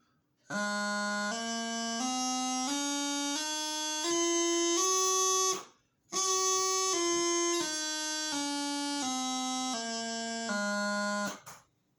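A bagpipe chanter climbs a stepwise scale up to F and back down, each note held briefly in an even rhythm with a short break in the middle, loud and reedy with no talking.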